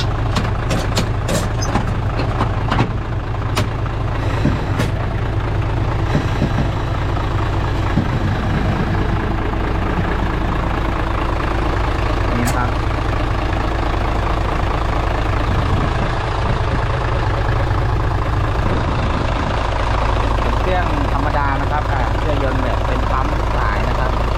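A heavy diesel engine of a Hino Mega six-wheel dump truck, J08C 210-horsepower engine, idles with a steady low rumble throughout, and a few clicks and rattles sound near the start.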